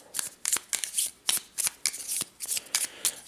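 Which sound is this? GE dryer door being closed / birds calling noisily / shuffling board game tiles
shuffling board game tiles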